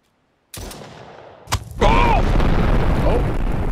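A live rocket lying on the ground suddenly blows up: a sharp loud blast after near-silence, a second crack, then a sustained roaring rumble of burning, with startled voices rising over it.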